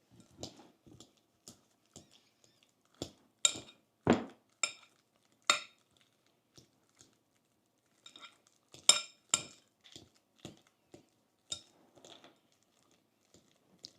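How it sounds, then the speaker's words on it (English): Fork mashing ripe bananas in a bowl for Caribbean banana bread, giving irregular soft squishes and sharp clinks of metal against the bowl, close and alone with no talk. "So the first step is to mash the bananas. So we're going to do that with a fork."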